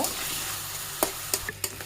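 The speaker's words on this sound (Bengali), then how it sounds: "ছোট ছোট চিংড়িগুলো পেঁয়াজের সাথে আমি ভালো করে ভেজে নেব" Small shrimp frying with chopped onion in a pan give a low, steady sizzle, broken by a few brief stirring scrapes and clinks near the end.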